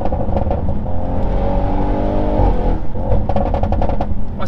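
The 750-horsepower engine of an Audi RS6 revs hard and accelerates close by, its loud exhaust popping and crackling throughout.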